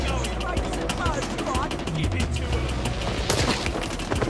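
Rapid bursts of gunfire ring out in an E3 2019 Ubisoft video game trailer set in London, loud and dense, layered with booms and music-like tones.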